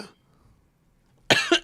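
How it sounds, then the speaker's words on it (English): A person gives a short, loud burst of coughs, about three harsh hacks close to the microphone, after a near-silent pause. "It made me cough."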